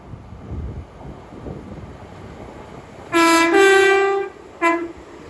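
Class 805 trains working in a pair on a London Euston to Holyhead service at Watford Junction sound a two-tone horn, a long blast followed by a short one, over quiet station ambience.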